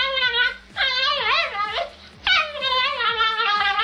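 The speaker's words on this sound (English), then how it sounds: "Just listen to this beautiful," A chihuahua yips and whines in two long, high-pitched wavering bursts with a brief gap between them, close and loud, backed by a steady rhythmic ticking beat.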